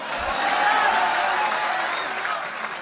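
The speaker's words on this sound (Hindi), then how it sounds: "चलो ताली बजाओ यार।" Audience at a Hindi kavi sammelan poetry event clapping in a dense, steady wash that swells and then eases slightly, with some voices mixed in underneath.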